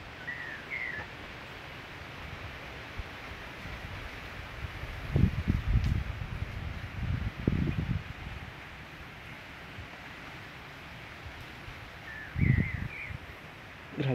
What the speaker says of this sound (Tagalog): Grabe, lamig ng hangin.